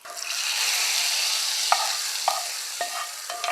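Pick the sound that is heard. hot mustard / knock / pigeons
hot mustard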